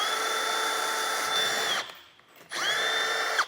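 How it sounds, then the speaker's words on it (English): Power drill boring a small pilot hole into a plastic truck bed plug, a steady high whine that stops briefly and then spins up again, close and loud. "I'm going to start with a small pilot hole in the center of that plug."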